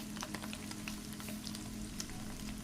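Fish manchurian balls fry in hot oil with a steady, close sizzle and bubbling crackle, occasional sharper pops rising above the continuous frying hiss.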